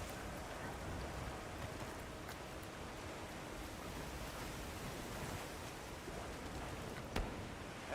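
Heavy rain downpour in the video game Monster Hunter Wilds, a dense, steady hiss of falling water with no breaks, fairly quiet and unaccompanied by speech.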